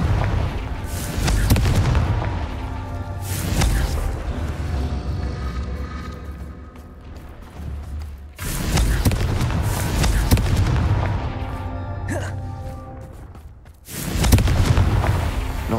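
Confringo blasting-spell explosions in the Hogwarts Legacy video game go off as three heavy booming bursts, each a loud low blast that fades into rumbling debris before the next.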